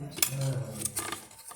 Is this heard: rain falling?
no